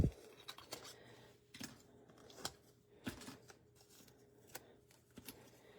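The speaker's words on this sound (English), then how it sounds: "Fussy cut it, because you can see the lines there." Scissors fussy cutting around a paper card piece, a quiet, close series of short irregular snips and paper rustles spaced apart, with no talking.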